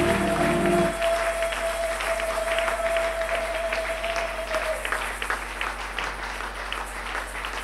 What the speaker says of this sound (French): Est-ce que tu peux acclamer le Seigneur très fort?